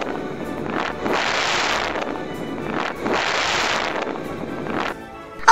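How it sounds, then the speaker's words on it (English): Two long, loud breaths are blown hard onto a wind-power toy book, each a forceful rushing hiss lasting about a second, separated by a short pause. "Now, use your full strength and blow on the book."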